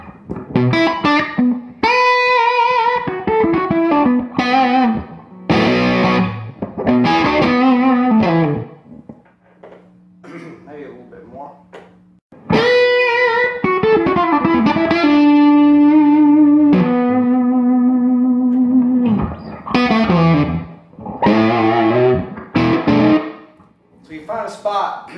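Electric guitar played through a Louis Electric KR12 tube amp head and matching cabinet, loud overdriven chords and single-note phrases ringing out with a brief quieter gap midway, alone with no talking.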